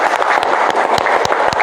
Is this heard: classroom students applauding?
yes